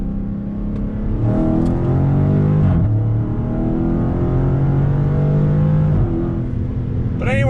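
A Dodge Challenger SRT muscle car rounds a bend with a steady, smooth engine drone that rises slightly, while a person talks over it from inside the cabin.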